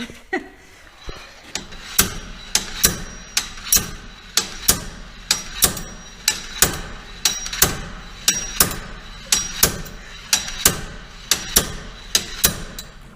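Steel hammer blows fall on a stubborn part while rear axle bearings are being replaced. The sharp, ringing metallic strikes come about every half second to second, loud and close, and keep up through the whole stretch.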